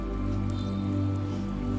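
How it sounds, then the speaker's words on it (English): Heavy tropical rain during the dry season, a dense steady hiss of drops falling close by, mixed with a low constant hum and scattered brighter splashes, with no voices. "This is too much rain for the dry season."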